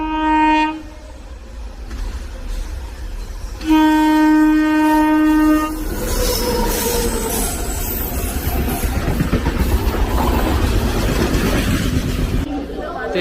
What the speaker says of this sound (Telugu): అంత స్లో పోతుంది ఈ ట్రైన్ అయితే.